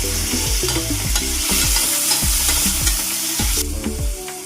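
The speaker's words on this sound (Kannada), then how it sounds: "ಈಗ ಇದು ಈರುಳ್ಳಿ ಆಗಿದೆ, ಟೊಮೆಟೊ ಹಾಕೋತಾ ಇದ್ದೀನಿ." Chopped tomato goes into a pan of fried onions, a loud continuous sizzle with regular rhythmic scraping and stirring strokes throughout and no voices.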